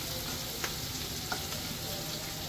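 Onions fry in hot oil to make birista, crisp fried onions for a Bengali chicken dish. A continuous, fairly soft crackling sizzle carries a couple of faint clicks and has no speech over it.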